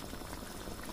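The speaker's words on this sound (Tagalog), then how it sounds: "So, kumukulo-kulo." A pot of chicken biryani with basmati rice bubbles at a steady boil, a dense, faint, continuous burble heard close and alone.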